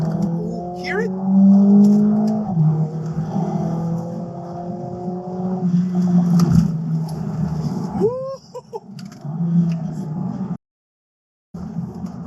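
Mercedes-AMG A45S with a 2.0-litre engine accelerating hard in Sport Plus mode, a loud rising engine drone that climbs through the gears with shifts and a brief dropout, heard from inside the car with someone talking over it.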